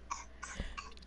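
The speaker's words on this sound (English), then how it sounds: "here comes my coughing face where when I try to talk, I start coughing" A person coughs in a short burst of a few rough coughs while playing MyPark, close and moderately loud with no other talk.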